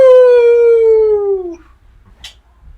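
A dog named Monster gives one loud, close, drawn-out howl that slowly sinks in pitch and breaks off, followed by near silence with a faint knock.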